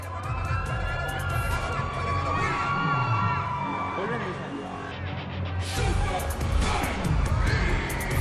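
A crowd cheers and shouts for Tiger Shroff at a live stunt show, steady loud whoops and high-pitched yells throughout, swelling again near the end.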